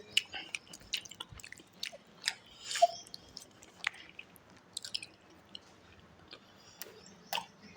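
Close-up chewing of rubbery homemade parotta served with salna, with wet, squishy bites and sticky mouth sounds repeating at an irregular pace on their own, with no talking.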